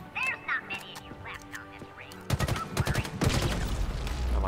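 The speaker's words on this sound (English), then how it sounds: "You just pretty much just start shooting at it." Gunfire in Halo Infinite as a Banished propaganda tower is shot: a few scattered sounds, then rapid bursts of automatic fire crackling loudly in the second half.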